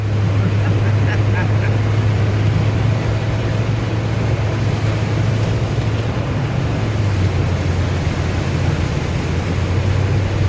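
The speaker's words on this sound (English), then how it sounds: "We're boating with the trailer." A boat motor drones steadily while boating, a loud, constant low engine hum mixed with wind and water wash, unbroken from start to finish and close by.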